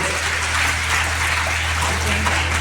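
An audience of students at a school event applauds a program officer, producing a dense, steady wash of clapping that is moderately loud and carries no speech.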